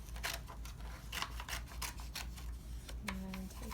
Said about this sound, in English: we're going to take some scissors and cut it